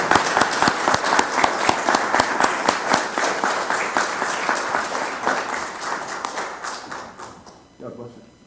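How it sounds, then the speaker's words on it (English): A church congregation applauds Melanie Salter at an anniversary heritage award service, a loud, dense, sustained round of clapping that fills the room, then fades sharply near the end into quiet. "So I would invite you to join with me in applauding the efforts of Melanie Salter on"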